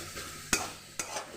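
Vegetables sizzle steadily as they fry in a pan, with a spatula scraping and stirring in two sharp strokes over the constant frying hiss, close and fairly quiet.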